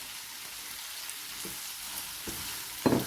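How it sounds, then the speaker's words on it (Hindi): Prawn karahi masala fries in a pan with a steady, close, rain-like sizzle, broken by a couple of soft spoon scrapes and a louder clatter right at the end. "ये भुन रहा है"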